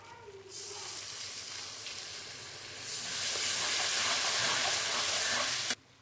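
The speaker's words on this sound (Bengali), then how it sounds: "একটু জল দিয়ে দিচ্ছি।" Ground spice paste sizzles loudly in a hot pan as water goes in for a fish rezala, a bright hiss swelling stronger midway and cutting off sharply near the end.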